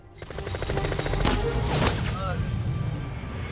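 A sharp gunshot cracks out, fired at a German on a clifftop in World War II from almost 45 m, then a second one, over dramatic background sound and a speaking voice.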